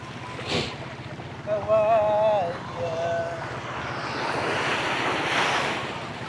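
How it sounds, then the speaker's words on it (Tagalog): Rough surf crashes with steady wind along the shore while a fishing crew casts a net from a boat, wind buffeting the microphone as a voice briefly breaks through the noise. "Lakas ng dagat eh."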